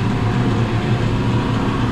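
Two absorption chillers running in a mechanical room, giving a steady, loud, dense mechanical drone with a low hum and no breaks.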